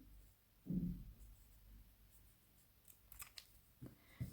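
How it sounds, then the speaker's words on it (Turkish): Scissors snip through knitting yarn in a couple of faint, quick cuts, with quiet handling noise in between. "Evet, makasımızda kestik."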